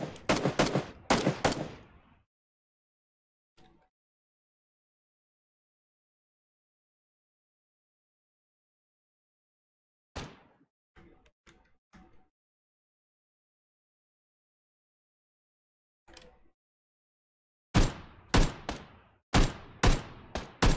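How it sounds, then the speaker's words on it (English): Gunfire in the battle royale game PUBG, with sharp bursts of rapid shots at the start and end and scattered fainter distant shots in between, separated by long silences. "He's shooting at me."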